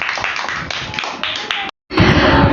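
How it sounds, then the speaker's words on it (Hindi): Children and adults at a Muharram quiz competition for kids clap after a correct answer, a dense burst of hand claps that cuts out briefly and then resumes louder. "तालियां।"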